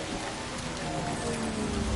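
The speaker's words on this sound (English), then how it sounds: "the rain this time is sure heavy" Heavy, unrelenting rain pours down in the Death Stranding video game, a dense steady hiss of drops beating on surfaces with no let-up and no voices.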